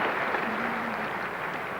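Cricket crowd applauding at Lord's during the fourth day of a 1980 England versus Australia test match, a steady, dense wash of clapping that holds at an even level throughout with no voices over it.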